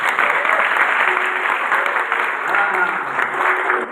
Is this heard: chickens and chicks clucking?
no